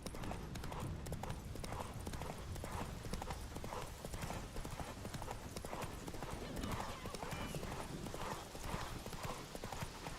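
In The Witcher 3, the horse Roach gallops at speed in a fast, continuous hoof rhythm with game noise layered over it. Voices shout over the hoofbeats during a race.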